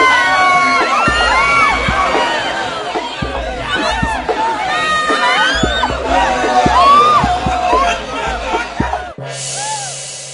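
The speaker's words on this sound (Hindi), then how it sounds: "देखो, चीखों से गूंज उठा बीबीगढ़" Women screaming in terror at the Bibighar, many overlapping shrill cries and wails filling the space, loud and chaotic, with children's shouts among them before the clamour cuts off abruptly.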